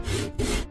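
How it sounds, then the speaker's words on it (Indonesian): Cartoon-style saw cutting through a bit of wood: two quick, harsh back-and-forth rasping strokes, loud and close with no talking. "Potong sedikit kayu."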